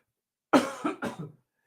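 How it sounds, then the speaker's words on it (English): A short burst of lingering coughing, three or four harsh hacks in quick succession, close and loud against silence. "Still got this lingering cough, but it's much better now"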